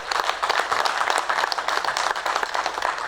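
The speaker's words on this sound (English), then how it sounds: "A big round of applause to our first tag team." Lively audience applause at a university research week partners' day, with distinct sharp claps standing out in a fairly close, sustained ovation.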